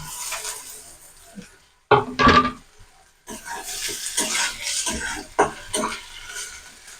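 Onion sizzles in hot oil with ginger, garlic and green chilli for a homemade meat chop filling: a bright, steady hiss that briefly drops out, then flares loudly as the ingredients go into the pan, and keeps crackling up close.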